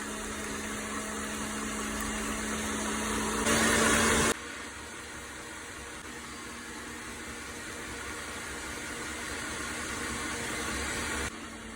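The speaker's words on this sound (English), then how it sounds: "Mixing both my sugar and my eggs together." Sugar and eggs for a coconut sponge cake are beaten together by an electric mixer, giving a steady motor whir that runs the whole time, briefly louder for a moment near the start, with no talking.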